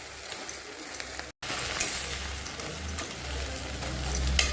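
Sliced kusi vegetable fries in a pan with sugar, giving a steady close sizzle and crackle that continues after a brief silent break.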